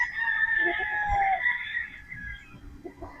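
A Boston Roundhead gamecock on a game farm crows once, loud and close, its long wavering call lasting over two seconds with a few faint clucks at the end.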